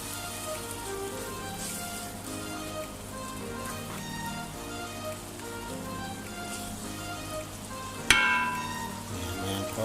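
Beef and onions stir-frying in a pan, a steady soft sizzle running throughout with one sharp clatter near the end, no talking.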